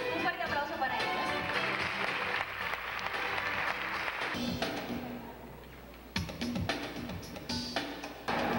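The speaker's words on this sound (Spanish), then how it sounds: "Un fuerte aplauso para ellos." Applause from a packed theatre audience at a television festival awards event, a dense burst of clapping that fades into quieter, scattered claps and other sounds, with a voice speaking over part of it.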